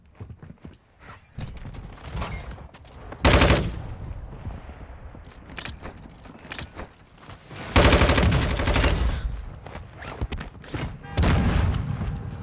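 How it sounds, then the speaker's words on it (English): Automatic fire from a Lachmann 5.56 assault rifle in Warzone 2 cracks out in loud, rapid bursts, with heavy volleys near the middle and end and quieter distant shots scattered between them. "He's shooting the juggernaut, so I know where he is."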